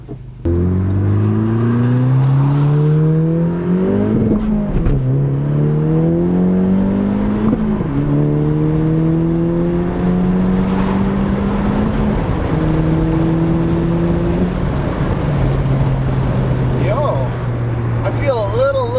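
A 2018 Honda Civic Si fitted with an Invidia R400 exhaust revs up again and again, each rising engine sweep falling back before the next, close by and loud and steady, with a voice talking over it.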